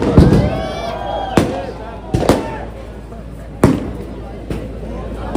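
Firecrackers go off outside in sharp, loud separate bangs, four or five cracks spaced about a second apart, each with a brief echoing tail. Someone speaks over them throughout.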